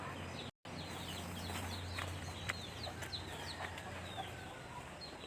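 Chickens at early-morning feeding time on a rural farm: soft, scattered clucks and chirps over a faint steady hum, quiet and somewhat distant, with no talking.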